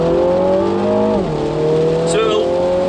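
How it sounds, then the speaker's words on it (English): A Mini GP3 engine in sport mode revs hard with a loud, steady drone, the pitch dipping briefly at a gear change before climbing again. "So it'll rev all the way to the red line, and then it'll change up gear for you"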